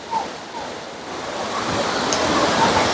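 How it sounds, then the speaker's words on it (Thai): Ko Luang waterfall in Mae Ping National Park, a curtain of water falling into a blue pool, gives a steady, loud, broad rushing roar; no talking. "เป็นฉากม่านน้ำที่ ไหลลงมาสู่ แอ่งน้ำ"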